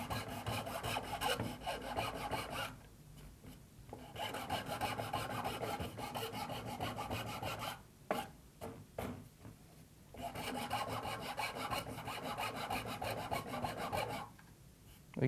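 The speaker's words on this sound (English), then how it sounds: "take a rasp or a wood file, and one by one, just take out those ridges" A rasp or wood file works the ridges off a cork ring handle, with long stretches of steady, close gritty rasping broken by brief pauses and a few quick separate strokes.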